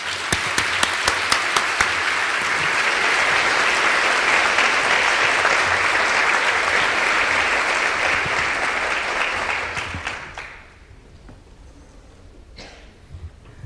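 Sustained audience applause welcoming speaker Rasheedah Phillips at a Digital Library Federation event, a dense, even wash of many hands clapping for about ten seconds before fading out into room quiet.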